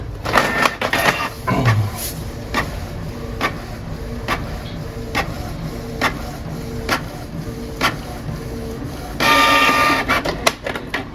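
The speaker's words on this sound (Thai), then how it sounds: "เดี๋ยวมันจะพิมพ์ลงบนกระดาษออกมาให้เห็นนะครับ" A Canon G3020 inkjet printer runs a test pattern, its print head shuttling back and forth in regular mechanical passes with clicks and a louder paper-feed whir near the end, close up and without speech.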